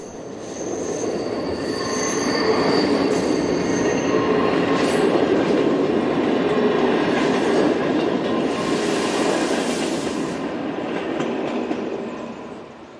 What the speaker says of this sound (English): TPF operate just 3 of these Class 537 units on their services to and from Fribourg